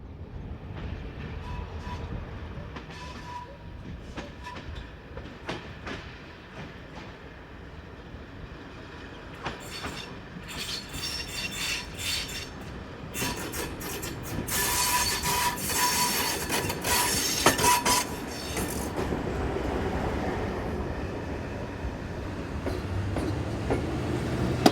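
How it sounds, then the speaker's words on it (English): A class 742 locomotive shunts on a European railway, with steady rumbling movement, rail clatter and bursts of high wheel squeal building toward the middle, heard from a moderate distance without talk. "The 742 must have undertaken a crew change, as in no time at all it was back undertaking shunting operations."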